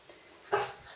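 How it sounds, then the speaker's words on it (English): A dog gives a single short bark or yip midway, close by and indoors, against a quiet room background. "Sorry if you can hear my dog, but he's here with me."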